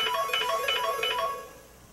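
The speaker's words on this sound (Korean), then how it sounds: "전화가 왔군요." A telephone rings with a repeated electronic ringtone in quick bursts, fairly loud, then trails off toward the end with no speech.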